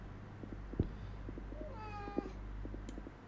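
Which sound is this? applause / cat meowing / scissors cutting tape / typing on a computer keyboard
cat meowing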